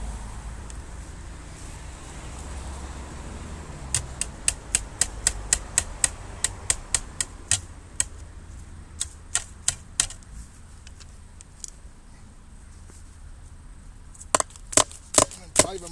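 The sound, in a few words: hammering staples into a wooden strainer post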